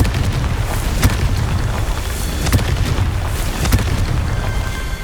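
A Confringo spell in Hogwarts Legacy produces a string of loud, booming magical blasts, several heavy thumps with crackling bursts over a dense rumbling battle din.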